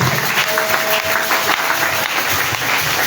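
Church congregation applauding in acclaim of Jesus during an evangelical service, a dense, steady wash of clapping that fills the room for the whole stretch with no pause.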